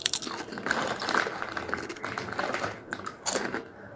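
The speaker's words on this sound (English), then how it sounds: "Please stop making that annoying sound. Do you mean crunching?" Crunching while eating, close and fairly loud irregular crisp bites and chews, no talk.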